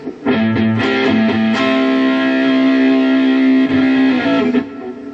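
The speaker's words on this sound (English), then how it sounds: "the gain is pushed all the way to 8, so it's quite a bit of distortion." Heavily distorted electric guitar through a Fender Champ amp, gain at 8, rings out in sustained, buzzing chords, loud and close, with a few changes before fading at the end.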